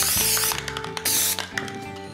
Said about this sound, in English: Now I have to wait until the next day to be able to spray 2 coats of varnish.